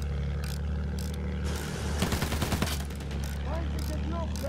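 A rear gunner's machine gun in Battlefield 1 on the Monte Grappa map fires a dense, rattling burst mid-clip over a constant engine drone, with a few brief distant sounds around it.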